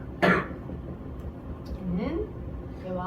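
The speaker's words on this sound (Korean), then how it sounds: "뭐 말을 못하고 계속 기침하고 있어" A person coughs once sharply near the start, then gives a throat-clearing rasp and a few strained vocal sounds in a quiet classroom setting.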